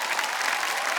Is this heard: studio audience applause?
yes